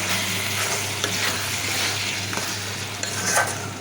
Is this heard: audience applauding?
no